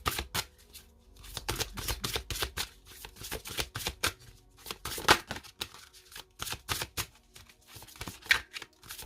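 Oracle cards are shuffled by hand during a spiritual card reading. A fast, steady run of crisp riffling and flicking comes close and clear, with brief pauses between bursts and no talk over it.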